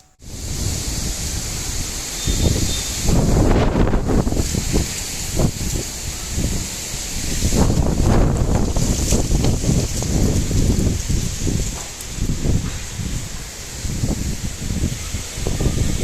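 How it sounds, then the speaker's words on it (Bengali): Strong gusting wind roars steadily into a microphone on a rooftop, with loud buffeting rumbles surging and easing throughout. "প্রচণ্ড হাওয়া দিচ্ছে"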